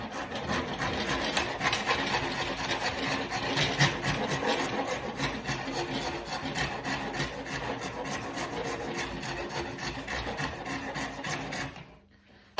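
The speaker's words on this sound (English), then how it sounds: "with the rasp, you just kind of push it away from you, it takes off" Hand rasp pushed over a wooden shillelagh handle while shaping it, a dense, continuous close-up scraping of rapid rough strokes that holds steady for about twelve seconds, then stops abruptly.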